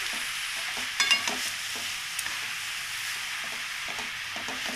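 Bottle gourd curry with bori mixed in a pan, a soft continuous sizzle with a few gentle scrapes and taps of the spoon, near and fairly quiet.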